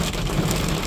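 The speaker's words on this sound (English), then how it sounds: "Yep, that's hail hitting us." Hail pelting the hood and cab of a pickup truck during a storm, a dense, loud, continuous patter of hard impacts heard from inside.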